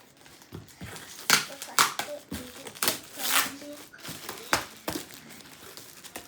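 Packaging around a new pair of skating shoes being cut open, giving irregular crinkling, tearing and snipping bursts close by, with a few quiet voices in between.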